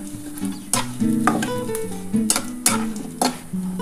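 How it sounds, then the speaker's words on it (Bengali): Badi lentil dumplings fry in hot oil, broken pieces hissing and crackling while a spatula stirs and scrapes the pan in several sharp metallic strokes, close and fairly loud. "তেলটা গরম হয়ে গেলে আমি কিন্তু এই বড়িগুলো ভেজে নেব"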